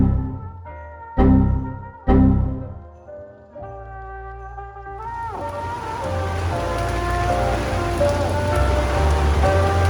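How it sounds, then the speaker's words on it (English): Heavy rain pours down steadily in Coolangatta, a loud dense wash that builds and holds after a few sharp knocks and thumps near the start. "it has bucketed down for the last 2 days"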